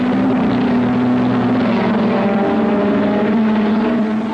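A V6 Ferrari race car driven by John Surtees at a 1963 race, its engine a loud, steady droning roar that holds level throughout with a sustained low hum, no voices over it.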